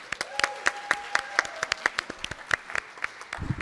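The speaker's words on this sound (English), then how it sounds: "Let's give you guys a round of applause" Scattered, sparse clapping from a small audience at a high school Asian American and Pacific Islander celebration, distinct individual claps fairly close, thinning out toward the end.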